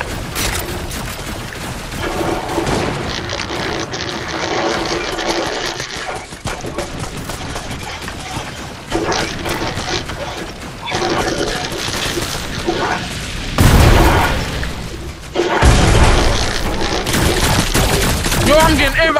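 Gunfire rattles through a Fortnite Chapter 4 Season 2 squads match, with dense bursts of rapid shots and a few heavier booming blasts, loud and close, while players talk over it.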